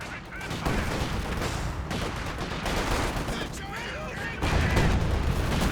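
Gunfire and high-explosive shots crack and boom through a Company of Heroes 2 battle, with dense overlapping shots and bursts in a loud, continuous barrage that swells toward the end.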